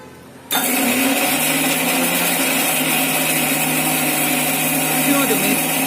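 Blender grinding onions, garlic cloves, ginger and green chilies into a fine masala paste for dhaba-style chicken curry: a steady, loud motor whir with a churning rasp that kicks in abruptly after a short quiet start and runs on unbroken.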